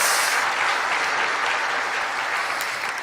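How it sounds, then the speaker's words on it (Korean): A congregation at a Friday all-night church worship service claps loudly and densely in sustained applause, with no speech over it. "박수 올려드립니다"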